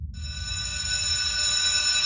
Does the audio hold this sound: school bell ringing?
yes